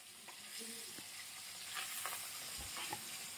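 Fish frying in a pan gives off a steady, close sizzle with occasional scraping and clinks from stirring or turning, and no one speaks.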